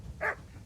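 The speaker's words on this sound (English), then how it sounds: "That dog is chasing us for miles." A single short dog bark rings out in the medieval role-playing game Kingdom Come: Deliverance, one brief mid-distance yelp over a low background rumble with no talk.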